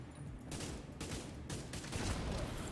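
Dense, sustained gunfire rattles through a firefight in the video game The Division 2 on PC, as continuous overlapping volleys of moderate loudness pile up over several seconds.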